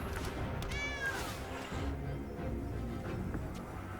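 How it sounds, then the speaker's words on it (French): A game-effect cat meow for an enchanted alley cat card in MTG Arena, a single rising-and-falling mew near the first second over steady background game music. "Et j'invoque mon chat de gouttière enchanté."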